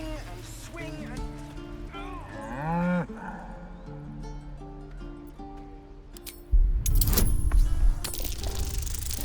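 An ox in the video game Baldur's Gate 3 lets out a long, loud moo over steady game music, followed by a burst of louder rumbling game noise.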